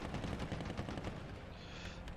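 Tank gun fire from a tank battle video game aimed at a T32's frontal plate, heard as a dense, sustained wash of booming gunfire and battle noise with no clear single shot standing out.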